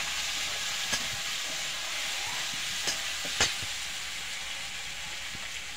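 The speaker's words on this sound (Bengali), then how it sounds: "এই ভেজে রাখা আলুটা দিয়ে দেব।" Fried potatoes are tossed into sautéed spice paste in a pan for a vegetarian paneer dish, producing a steady, even sizzling hiss with a few soft clacks of the spoon.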